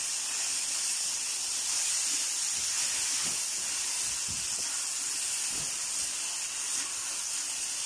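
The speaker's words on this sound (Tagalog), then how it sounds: "Susunod natin yung patatas. I-mix lang natin ang mga ingredients." Potatoes cook in a pan with textured vegetable protein, giving a steady, even hiss. A few soft stirring scrapes sit faintly under it, with no talking.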